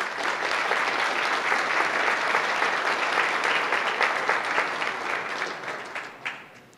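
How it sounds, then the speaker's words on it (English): Sustained warm applause from a seated audience at a civic club forum in Portland, steady and dense before thinning and fading toward the end. "Please join me in a warm round of applause for all of them"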